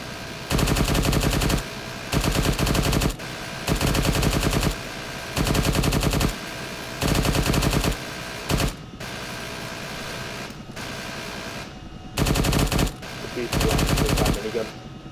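Long bursts of machine gun fire from a crew-served weapon during crew training in the video game ArmA 3, loud and close, repeating in roughly one-second bursts with short gaps, with radio-style voices talking in between.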